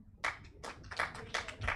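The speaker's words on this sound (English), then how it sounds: "A hand clap from Anita." Scattered hand claps from a small symposium audience at an African women in arbitration event, several separate, fairly faint claps in an uneven rhythm.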